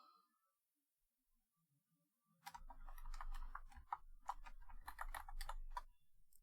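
Fast typing on a computer keyboard, close and crisp, a busy run of key clicks beginning after a quiet stretch, with no voices.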